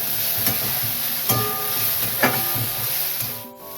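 Drumstick flowers fry with poppy seeds in a pan, a soft continuous sizzle broken by a few scraping stirs of a spatula.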